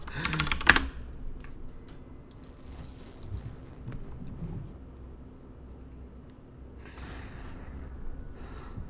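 Quick keyboard typing on a computer during a clan war match, with a sharp burst of keystrokes early and faint, sparse clicks continuing under a low room hum.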